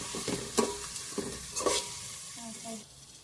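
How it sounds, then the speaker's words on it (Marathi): Spices, potatoes and onion fry in a pan for a soybean pulao. A soft sizzle runs underneath while a spoon stirs and scrapes in a few distinct bursts, close and fairly quiet, with no talking. "आता सगळे मसाले भाजून घ्यायचे"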